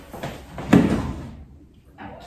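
A kitchen drawer slides open and shut while utensils are being put away, a short rolling scrape rising to a firm close at close range, then quiet.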